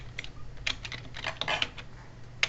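Typing on a computer keyboard, with irregular bursts of clicking keystrokes at close range and no talk, ending in one sharper key press.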